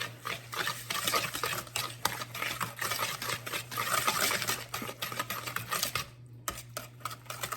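Brown sugar and white sugar are mixed into a pear and walnut quick bread batter, giving close, rhythmic scraping and stirring strokes that run continuously before a short pause near the end.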